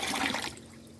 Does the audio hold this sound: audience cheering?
no